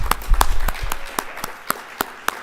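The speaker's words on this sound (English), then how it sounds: "Give yourselves a big round of applause." Audience at a school National Honor Society induction ceremony claps at the close of the event, a scattered, fairly close round of applause with distinct sharp hand claps thinning out toward the end.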